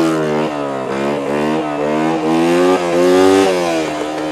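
A 1984 80cc four-stroke motorcycle engine revs hard in third gear, a loud, close, buzzing drone that rises and dips as the throttle opens and eases without pause.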